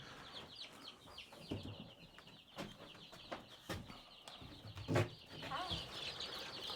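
Soft clucking and chirping calls from a group of turkeys nearby, with scattered scratchy knocks and rustling; fairly quiet overall.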